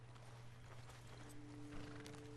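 Faint horse hooves clip-clop in a video game, with a soft whinny and a steady low hum underneath.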